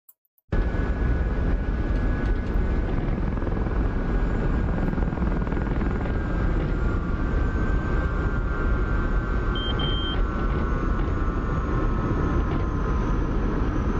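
Steady, loud turbine whine and rotor drone of an SA-342 Gazelle helicopter in the DCS flight simulator, continuous and close, starting abruptly after a brief silence, with a short beep partway through.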